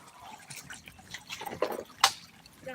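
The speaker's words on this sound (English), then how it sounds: "You can hear the water in my boots." Water sloshing and dripping inside wet boots while wading during gold prospecting at Bent Fork: soft, irregular squelches and drips across a short stretch, with one sharper wet splash near the end.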